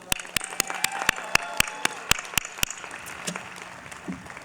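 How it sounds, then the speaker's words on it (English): Graduates at a university commencement applaud themselves: sharp, evenly spaced claps stand out over a faint crowd patter, then die away into a low murmur. "Give yourself a round of applause."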